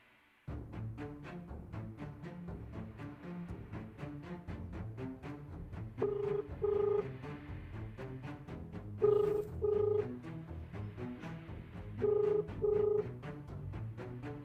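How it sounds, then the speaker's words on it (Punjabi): A telephone is dialed with a series of short key tones, then rings in three evenly spaced double bursts, clear and close against a steady background. "ਤੇ ਸਿੰਮੀ ਨੂੰ ਫੋਨ ਕਰਦੀ ਆ ਕਿ ਛੇਤੀ ਛੇਤੀ ਆ ਜਾ"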